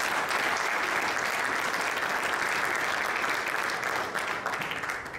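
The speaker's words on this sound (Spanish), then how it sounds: "Si lo creen, denle un aplauso al Señor en esta tarde." A church congregation applauds steadily and loudly for about five seconds during a service, a dense, even clatter of many hands that thins slightly at the end.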